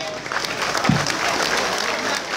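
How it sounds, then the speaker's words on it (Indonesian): A crowd claps at an outdoor sholawat gathering in heavy rain in Paron, Ngawi; brief, diffuse applause that blends with the steady hiss of rain, with a short low thump partway through. "Tepuk tangan kita semuanya."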